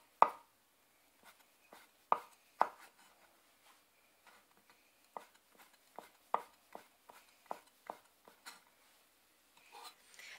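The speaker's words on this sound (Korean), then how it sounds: "편하신 방법대로 죽순을 채 썰어줍니다" A knife julienning bamboo shoots on a cutting board gives sharp, close knocks, a few spaced taps at first, then a quicker, irregular run of chops, with quiet gaps and no talk.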